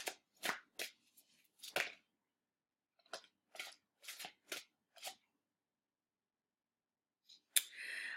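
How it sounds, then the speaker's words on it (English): Archangel Michael oracle cards being shuffled by hand, a series of short crisp riffling bursts with pauses between them, ending in a longer flurry of card sounds, no talking. "Let's quickly pull an Archangel Michael card"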